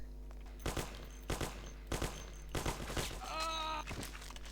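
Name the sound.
gunshots in the video game Mafia: The City of Lost Heaven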